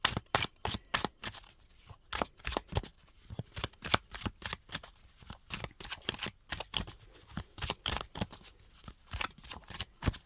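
A deck of tarot cards is shuffled by hand, close and crisp, with rapid irregular bursts of riffling and slapping card noise repeating throughout.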